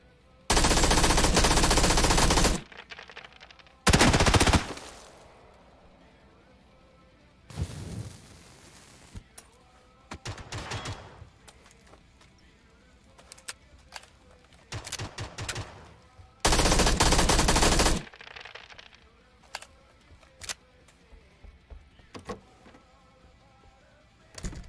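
Video game gunfire: several long, loud bursts of automatic machine gun fire broken by single shots and scattered clatter, close and harsh, with quieter gaps between bursts.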